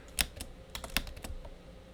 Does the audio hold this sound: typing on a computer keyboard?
yes